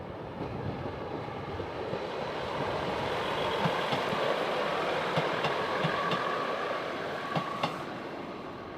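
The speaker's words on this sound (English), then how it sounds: "this is Northern to Sheffield, little passenger train" A Northern class 150 passenger train, unit 150205, passes through Doncaster station bound for Sheffield, its rolling wheels and engine swelling to a broad steady rumble mid-pass with a few rail clicks, then easing off.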